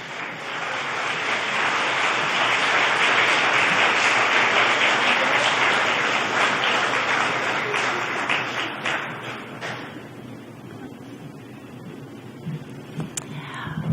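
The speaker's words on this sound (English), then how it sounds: "Please, a big round of applause." An audience breaks into sustained applause to welcome a speaker at an evening talk, loud and dense for about ten seconds before thinning into scattered claps that trail off.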